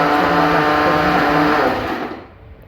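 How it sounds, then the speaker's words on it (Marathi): A kitchen mixer grinder blends a chutney of salt, green chilli, coconut, coriander and curd, a loud steady whirring drone that runs for about two seconds and then winds down. "चटणीसाठी मीठ मिरची खोबरं कोथिंबीर आणि दही टाकून मिक्स केलं"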